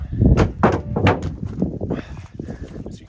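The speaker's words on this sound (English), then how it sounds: "that was the sound of the hood denting in." A car hood dents in at a junkyard: a rapid series of dull, heavy thumps and crunching knocks, close and loud at first, then trailing off into softer rattling.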